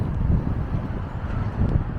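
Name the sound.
wind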